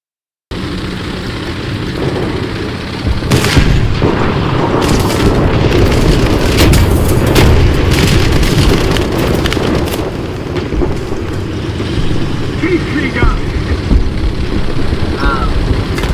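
Bombs exploding in a tank video game: loud, continuous booming rumble with a dense cluster of blasts in the middle, and a few softer bursts later on. No voices are heard.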